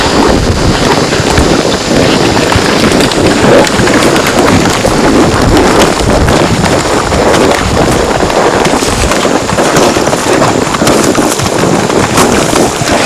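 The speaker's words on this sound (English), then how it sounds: "It's starting to rain." Steady rain starting on an old mountain road near Lolo, heard as a dense continuous hiss mixed with strong wind buffeting the microphone, loud and unbroken throughout.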